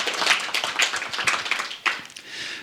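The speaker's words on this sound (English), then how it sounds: "perhaps we can have already a small applause for them" A book launch audience gives a small round of applause, with scattered, fairly close hand claps over about three seconds.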